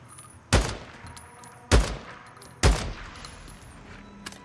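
Gunfire from shooting enemies in the video game Days Gone: three sharp, loud shots about a second apart, each with a short decaying tail, over a quiet game background.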